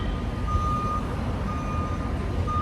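A truck's reversing alarm beeps on a New York street, a steady repeating tone over loud low traffic rumble and city noise.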